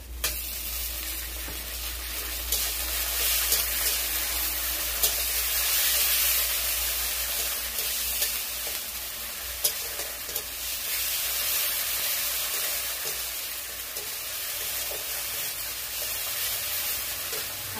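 Sliced onion with ginger-garlic paste and green chili paste sizzles steadily in a hot pan, a close, constant hiss of frying with faint crackles and no voices.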